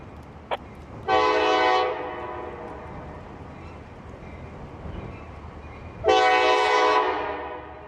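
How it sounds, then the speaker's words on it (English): Yard switcher locomotive 1201 pulling an intermodal train sounds two loud, sustained horn blasts, each about a second long, separated by several seconds of low rail rumble. "The horn on yard switcher 1201 is perfect."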